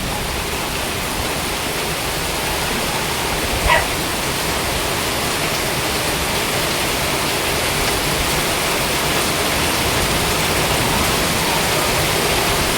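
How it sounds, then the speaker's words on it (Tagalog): Heavy afternoon rain pours down beside a flooding creek, a dense, constant roaring hiss that fills the whole scene at a steady level, with a brief faint knock partway through. "So the rain is very heavy, guys."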